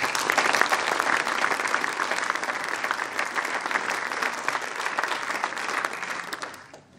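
Sustained applause from the audience at a mayor's New Year address in Capbreton, steady dense clapping that fades out at the end, with no talk over it.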